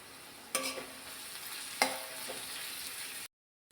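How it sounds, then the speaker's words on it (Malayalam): Crushed ginger and garlic hit hot oil with onions, producing a steady sizzle with two sharp stirring scrapes of a spoon, then an abrupt cut to silence near the end. "ഇതിലേക്ക് ഇഞ്ചി വെളുത്തുള്ളി ചതച്ചത് ചേർത്ത് കൊടുക്കാം."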